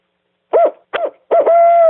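A man imitates a hoot owl call with his voice, giving three loud, close hooting phrases, the last one drawn out, with no other sound around them.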